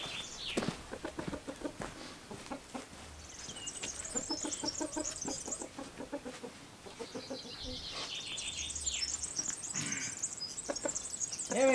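A rooster clucks in agitated panic outdoors, giving a run of repeated, fairly close clucks broken by higher, squawking calls.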